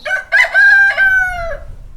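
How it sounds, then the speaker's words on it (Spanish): A rooster crows loudly and close by, one long strained cock-a-doodle-doo with a rising start and a drawn-out falling end, heard alone. "sacó de ella un gallo, que ya libre estiró sus cansados miembros, agitó las alas y cantó estentóreamente"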